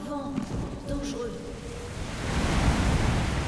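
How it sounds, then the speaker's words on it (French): Strong, dangerous wind in Metro: Last Light Redux on Red Square, a steady roaring gust that grows louder toward the end, with someone talking over its start. "Vent dangereux."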